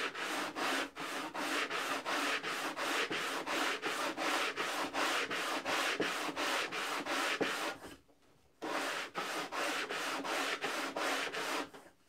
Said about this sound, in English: Working this up and down just until I get all the way into my center point.